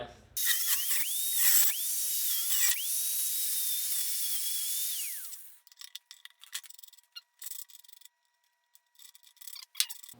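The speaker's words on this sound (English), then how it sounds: "now we trim the bolt down so we have a few threads extra" A small high-speed rotary tool trims a bolt down for a drift trike build, a loud close whine lasting about five seconds with brief pitch dips as it bites, then scattered clicks and clatter.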